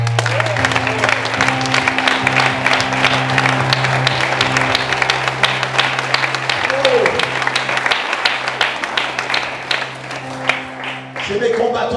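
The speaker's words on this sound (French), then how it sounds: "Est-ce qu'on peut applaudir Marion qui vient de Jamaïque?" Applause from a church audience welcoming Marion from Jamaica, a dense, steady round of clapping that fills the whole stretch, with a low murmur of voices underneath and a brief voice near the end.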